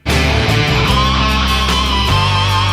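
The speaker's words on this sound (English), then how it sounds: "So in this phrase we get stuck into our pinch harmonics" Distorted electric guitar plays a lead phrase with pinch harmonics and vibrato from a guitar solo, loud and sustained over low chugging tones, no talking.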